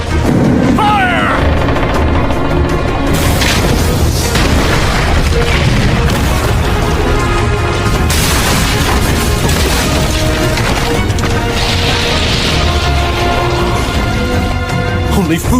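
Loud, dense battle sounds from an anime, with a catapult firing and repeated booming explosions and crashes running continuously throughout, layered with music or effects.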